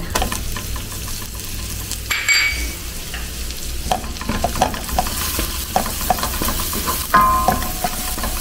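Onion sautéing in melted butter in a pan, a steady close sizzle with repeated scraping and stirring clicks from a utensil, no voices.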